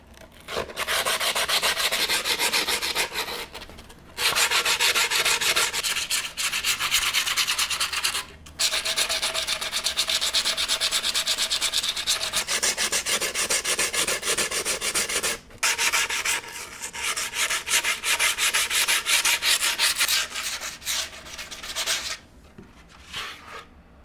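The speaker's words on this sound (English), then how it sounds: "I think I want to sand around the edges." Abrasive rubbing along the edges of freshly applied skateboard grip tape, a close, steady scraping rasp in long continuous strokes broken by a few short pauses, with no voices.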